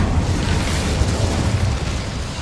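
The Incendio fire spell is cast in Hogwarts Legacy: a dense, loud roaring whoosh of flame with a heavy low rumble, sustained steadily throughout without pause.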